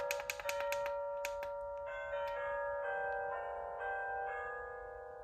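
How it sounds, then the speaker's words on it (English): An XREXS large digital wall clock sounding its alarm: a loud electronic chime with rapid repeated tones at first, then a sustained ringing melody whose pitch steps through several notes, close and steady with no voices. "So it's a pretty loud alarm clock"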